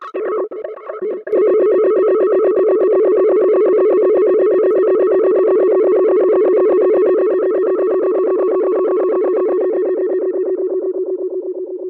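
A tape echo unit emulating a Binson Echorec self-oscillates: a loud, sustained, buzzing echo tone holds steady and rings on for several seconds, slowly thinning toward the end, with a few choppy bursts at the start.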